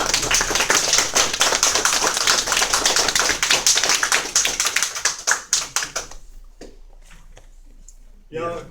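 An audience applauds at the end of a lecture on Ménière's disease and tinnitus in Võru, with dense clapping that thins into scattered claps before fading, followed by a brief voice.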